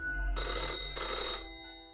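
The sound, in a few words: old-fashioned telephone ringing in video game Death and Taxes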